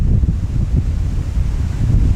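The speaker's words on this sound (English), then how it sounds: "It's super windy out here." Strong wind buffets a microphone at a shore with rough waves, a steady, close low roar that gusts and swells throughout with no voices.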